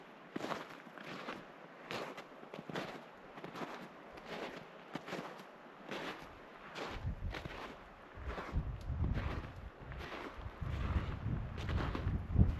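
Cold wind gusting near ice-covered rocks at Gem Lake above Estes Park in Rocky Mountain National Park, roaring in uneven surges with low rumbling buffets against the microphone that grow heavier toward the end.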